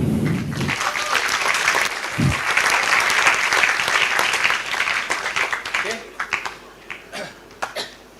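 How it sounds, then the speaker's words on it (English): Audience applause at the IBOH 2024 opening ceremony, a dense burst of clapping lasting several seconds before thinning into scattered claps, with a cough and brief voices near the start. "Give him a clap"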